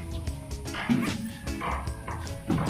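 A dog gives a few short barks and yips, fairly close, over low household background noise.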